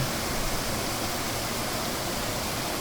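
A steady, dense rush of water from a waterfall and valley stream on a forest trail at Chiaksan mountain, continuous and fairly loud with no voices.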